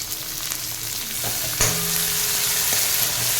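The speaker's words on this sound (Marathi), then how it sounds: "फरसबी परतून झालेली आहे त्याच्यामध्ये आता आपण ही शिमला मिरची घालूया" Capsicum and French beans sautéing in a pan, a steady broadband sizzle with stirring scrapes and a sharp clack from the spatula near the middle, close and fairly loud with no talk.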